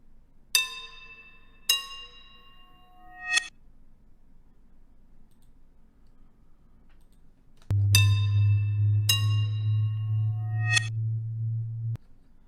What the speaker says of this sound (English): So I'm going to add reverb before I reverse it.